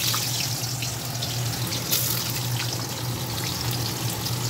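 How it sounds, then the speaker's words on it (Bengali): Potatoes frying in hot oil in a wok for a Bengali fish curry, a dense, steady sizzle and crackle heard close and continuous with no talking. "চলো প্রথমে আলুগুলো ভেজে নিই।"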